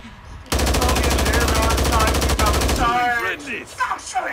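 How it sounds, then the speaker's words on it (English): A dense burst of rapid automatic gunfire in a video game erupts suddenly and rattles continuously for over two seconds, followed by a short tail of scattered game sounds. "Stop shooting me!"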